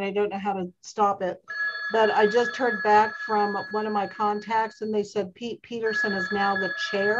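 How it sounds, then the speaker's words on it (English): A telephone rings with a steady electronic tone in the background, sustained beneath a voice talking throughout at a meeting. "Sorry about my phone ringing in the background."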